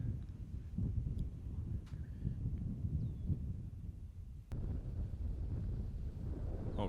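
Wind blowing across an outdoor disc golf course during a tournament round, a steady low buffeting rush on the microphone with a few faint clicks and distant background sounds, no speech.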